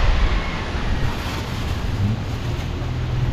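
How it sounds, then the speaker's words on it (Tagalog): Steady, loud wind roaring and buffeting the microphone, with a low rumble of rough water underneath, continuous throughout. "Lakas ng hangin."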